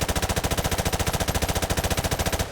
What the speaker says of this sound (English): You can just shoot him with your assault rifle